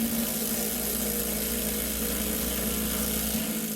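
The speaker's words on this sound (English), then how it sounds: "I'll compare all with 2 amp hour batteries driving a lag bolt into pine" A first-generation Ryobi impact driver on a 2 Ah battery drives a lag bolt into pine, giving a steady, loud whirring drone that holds the same pitch from start to finish.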